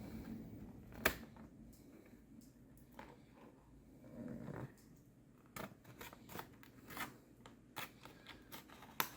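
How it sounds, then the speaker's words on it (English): Scissors snip and crunch through the plastic packaging of a Dr. Loomis toy figure: sparse, sharp cuts and crinkles close to the microphone, separated by quiet pauses. "I'm going to immediately ruin it by cutting into it here and freeing Dr. Loomis from his plastic prison"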